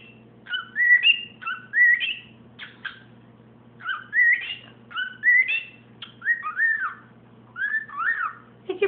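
A pet bird gives a series of short, rising whistled phrases, clear and close, repeating in a steady pattern with small pauses between bursts over a quiet background hum.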